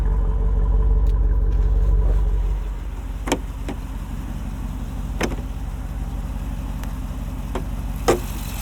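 The 6.4-liter HEMI V8 of a 2024 Jeep Wrangler Rubicon 392 Final Edition rumbles loudly at first, then settles into a lower steady drone inside the cabin with a few faint clicks.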